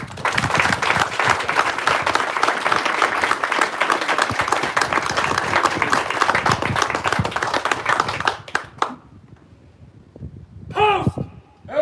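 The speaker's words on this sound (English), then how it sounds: "please join me in a round of applause for our award recipients" An audience at a Marine Corps officer candidate graduation ceremony applauds award recipients, dense sustained clapping for about eight seconds that cuts off, followed by quieter moments and a spoken voice.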